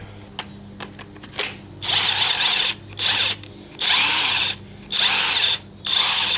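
DeWalt DCF899HB impact wrench running in five bursts of about half a second to a second each, separated by short pauses, loud and close with a bright whirring hammer and no talking.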